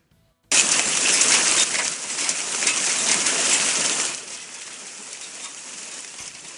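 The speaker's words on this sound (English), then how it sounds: "the sights and sounds of some powerful hail" Powerful hail falling during a storm in Baldwin, Missouri, starting abruptly as a dense loud roar of pelting ice on surfaces that eases to a steadier, quieter patter after a few seconds.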